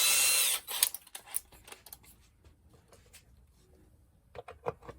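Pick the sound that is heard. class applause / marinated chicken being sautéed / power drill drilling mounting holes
power drill drilling mounting holes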